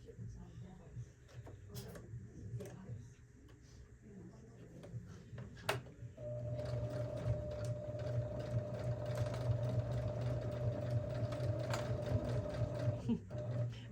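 A domestic sewing machine runs up a tote bag handle seam. After some quiet handling noises, it starts and hums in a steady, close, even run for about seven seconds before stopping. A voice can be heard speaking.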